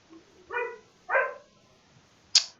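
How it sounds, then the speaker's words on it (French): A dog in Minecraft barks three times, two mid-range woofs followed by a sharper, higher yelp, with quiet gaps in between. "Il y a un chien qui fait ouf ouf."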